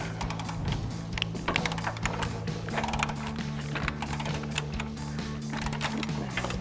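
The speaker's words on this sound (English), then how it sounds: "So we've got our 21mm socket on our ratchet. We just need to remove the nut and take our bracket off." A ratchet with a 21mm socket clicks in quick repeated bursts while loosening a nut on the rear bumper bracket of a Sierra 2500 pickup, close and fairly quiet, with no talking.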